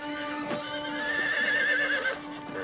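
A cartoon horse neighs in a short, bright, wavering whinny over a sustained musical backdrop, loud and close.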